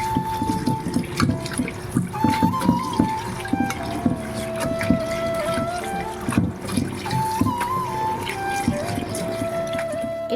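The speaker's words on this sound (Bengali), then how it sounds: "পাতাগুলোকে ভালো করে জল দিয়ে ধুয়ে নিতে হবে। বারবার জল পাল্টে পাল্টে পরিষ্কার করে ধুয়ে নিতে হবে" Pumpkin leaves being washed by hand in water, with steady splashing and sloshing close by and a faint hum and tonal sounds running underneath.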